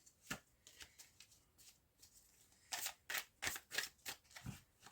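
Tarot deck being shuffled and cut by hand, a run of soft papery riffles and taps that grows into several louder, quick bursts near the end, close and alone with no talk.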